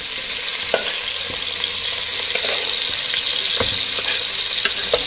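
Chopped onions, about five of them, frying in oil in a pan for a gizzard dish, with a steady close hiss and occasional light stirring clicks.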